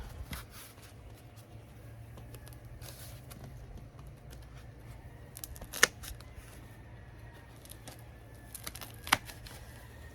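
Scissors cutting foam pool noodles outdoors for a Kratky hydroponics setup, with a few sharp, isolated snips over a quiet background of faint ambient noise.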